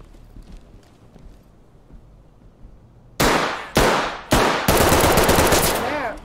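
Loud bursts of gunfire in the tactical shooter Ready or Not, heard in four sharp volleys after a quiet stretch, with the final burst sustained and rattling on to the end.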